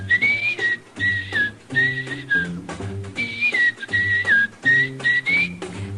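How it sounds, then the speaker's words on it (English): Whistling plays along with a jazz band: a bright melodic whistle in repeated phrases above bass and rhythm, close and clear throughout. "How about whistling along with him?"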